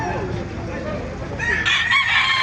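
A rooster crows loudly and close by at a Baliuag tyangge market where fighting cocks are sold, its long call rising over a murmur of background chatter and clucking.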